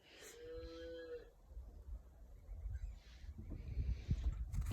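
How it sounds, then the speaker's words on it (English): Cattle lowing on a small homestead, one clear moo near the start followed by low rumbling farmyard noise and handling sounds, fairly faint overall. "Do you hear the cows?"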